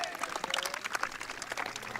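Applause from a crowd at a boys' high school soccer game, a steady wash of clapping lasting the whole moment, with voices mixed in underneath.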